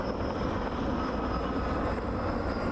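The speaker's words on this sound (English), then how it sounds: "I'm sure these helicopters are feeling it too as they're heading into those fires." Steady roar of helicopters flying overhead toward wildfires, a continuous droning rumble with no voices, holding at an even, fairly loud level throughout.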